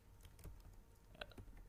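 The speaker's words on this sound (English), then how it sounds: "After typing the Mongo con" Faint computer keyboard typing, a few scattered soft key taps over a low hum, while code for connecting MongoDB with Python is entered.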